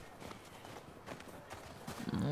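Horse hooves clip-clop faintly in The Last of Us Part II, a quiet irregular patter of hoofbeats at a walk or trot, growing slightly louder toward the end.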